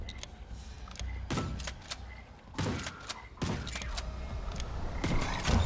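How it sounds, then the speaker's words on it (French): Mechanical clicks and clacks of a weapon being reloaded in the game From Space on Nintendo Switch, a few distinct metallic snaps over low background noise. "Attends, je recharge vite fait."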